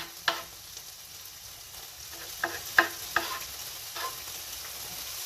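Bacon sizzles steadily in olive oil in a pan, with a few distinct clinks and taps of a utensil during stirring.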